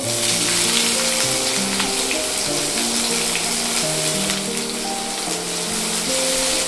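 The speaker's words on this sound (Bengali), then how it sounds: "তেলটা গরম হয়ে গেছে, আমি এখন পেঁয়াজগুলো বেরেস্তা বানিয়ে নেব।" Sliced onions fry in about five or six spoons of hot white oil in a kadai for birista, a loud, dense, even sizzle that carries on unbroken, with a faint tonal hum beneath and no voices.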